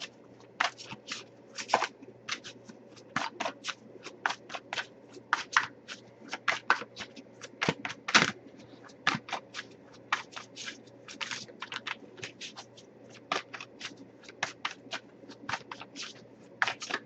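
A deck of tarot cards being shuffled by hand, with repeated crisp riffling snaps and flicks in irregular bursts, close and fairly quiet, no talking.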